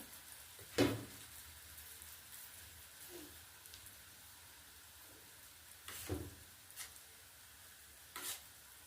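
Food frying in a pan with white oil and a little butter makes a faint, even sizzle, punctuated by a few sharp clatters of utensils.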